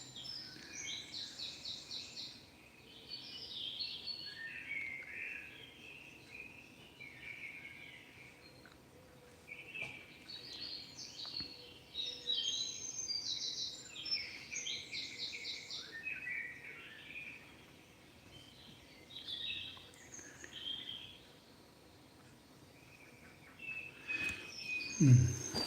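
Recorded birdsong playing quietly in the background, a series of bright chirps and trilling phrases coming and going over a soft room hum, with occasional small handling noises.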